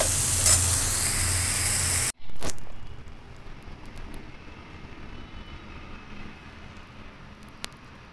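Onion and spices frying in a wok, a loud steady sizzle that cuts off abruptly, then a brief sharp burst followed by quieter, fading crackle and hiss.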